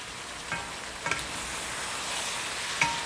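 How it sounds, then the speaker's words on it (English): Shrimp and peppers sauté in a little oil in a dry-bottomed pot, giving a soft steady sizzle with a few quick light clinks of stirring, fairly faint and without talking. "it's basically just, as I said, sauteing with a little oil"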